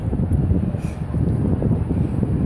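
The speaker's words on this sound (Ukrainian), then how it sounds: "Что, вітер подув?" Steady low wind rumbling and buffeting against the microphone in an amusement park in Lviv, a continuous gusty roar with no voices.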